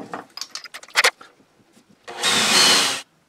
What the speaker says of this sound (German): Jetzt bohren wir noch hier ein Loch rein und setzen da auch einen rein.